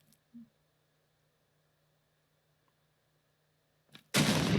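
Lucky TNT detonates in Minecraft, a sudden loud, broadband blast that cuts in at the end after near silence, preceded by a couple of faint pops.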